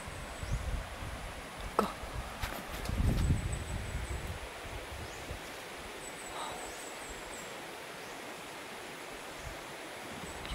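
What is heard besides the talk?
strong wind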